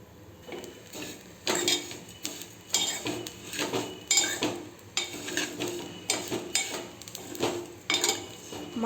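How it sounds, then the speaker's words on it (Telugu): Vermicelli frying in ghee as a spoon stirs it around a pan, a string of close metallic clinks and scrapes in uneven rhythm over a faint sizzle, no speech. "సేమియా నెయ్యిలో వేయించుకుంటేనే టేస్ట్ చాలా బాగుంటుంది."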